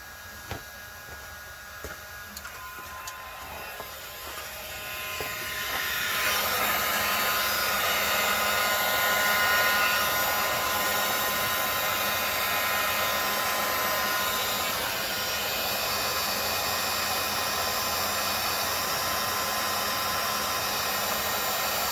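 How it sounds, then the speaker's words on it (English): A heat gun blows to melt solder on wiring for a 7.3 IDI Ford F350 diesel engine, a loud steady fan-and-air roar that kicks in after a few seconds of quieter handling and runs on continuously without talk. "Now let's grab the heat gun."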